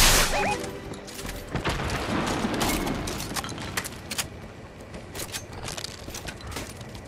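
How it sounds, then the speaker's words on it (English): Flare gun shots in Fortnite, a run of sharp pops and whooshing bursts scattered over a busy game soundscape, some of them close and loud and others more distant. "Is that you guys shooting flares?"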